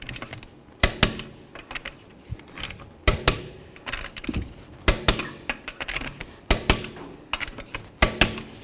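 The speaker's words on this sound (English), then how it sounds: "So now we're going to torque these lug nuts to 95 foot-pounds." Torquing the lug nuts on a 2009-16 Mercedes-Benz E350 to 95 foot-pounds during a rear brake shoe job brings sharp metallic clicks, often in quick pairs, with quieter ratcheting and handling noises between them.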